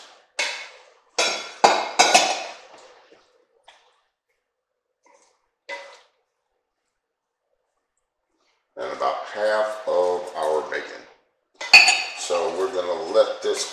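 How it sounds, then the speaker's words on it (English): Butter and potatoes go into a cooking pot for green beans and potatoes, with sharp metallic clanks and scrapes of utensils against the pot in short bursts, separated by quiet pauses and a stretch of louder rustling. "we are going to add in our butter, our potatoes."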